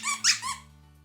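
A hot dog shaped squeaky pet toy gives a quick run of two or three high, wheezy squeaks close by, short and fairly soft, then trails off.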